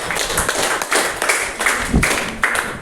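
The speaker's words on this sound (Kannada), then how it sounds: "ಚಪ್ಪಾಳೆ ತಟ್ಟಲು ಧನ್ಯವಾದ" A class of students applauds, producing a few seconds of steady, close clapping from a small group with uneven rhythm and no talking.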